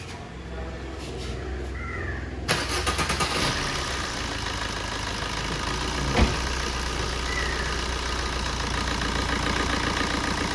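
Maruti Swift car engine with its alternator belt loosened, cranking to a start and then idling steadily, a continuous mid-pitched hum with crows cawing faintly in the background.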